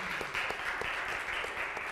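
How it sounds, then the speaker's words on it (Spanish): Church congregation applauding during a Sunday service, a steady wash of many hands clapping at moderate, somewhat distant level with a few sharper individual claps standing out. "Démosle un buen aplauso a Rey de Reyes,"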